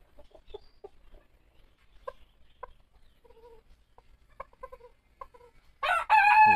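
A silver lace Polish chicken gives a run of soft, close clucks and short calls, then bursts into a loud, full crow at the end, with no talking.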